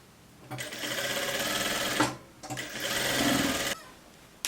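Sewing machine stitching a blouse seam, two bursts of fast, loud mechanical whirring separated by a short pause, close and alone.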